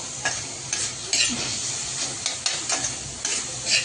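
Fenugreek leaves with peanuts are stirred and sautéed in a pan, giving a steady sizzle with regular scraping strokes of the spatula, close and moderately loud, without talking.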